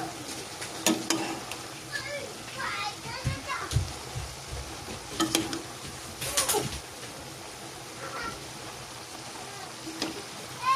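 Bubbling sizzle from a boiling pan of broccoli with occasional clanks of stirring, while children's voices and chatter carry on in the background.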